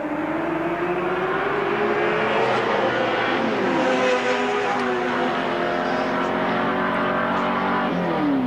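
Race cars at the 1983 Bathurst 1000 roar continuously and loudly, engines revving and shifting pitch as they pass, forming a dense, unbroken wall of motor noise.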